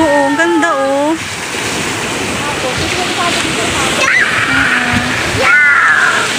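Ocean waves wash onto the beach at Tolosa in a steady, broad roar of surf mixed with wind noise, while people talk nearby and a few brief voices rise over it.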